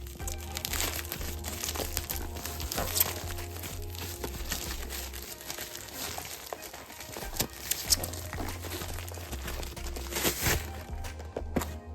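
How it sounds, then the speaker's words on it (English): An AliExpress shipping package being cut open from behind, giving steady crinkling and crumpling of plastic wrap with small crunches and snips, close and fairly quiet. "We'll just cut this open from behind."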